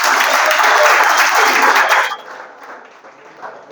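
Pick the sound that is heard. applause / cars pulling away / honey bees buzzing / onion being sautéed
applause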